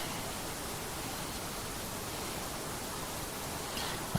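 Constant hiss of a waterfall near a mountain lake at a hot tent campsite, an even, unbroken wash of falling water with a brief knock at the very end.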